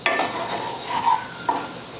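Mint rice being stirred in a pan on the stove, with soft scraping and a few light clinks of the spoon against the pan, faint sizzling beneath, close by and without talk.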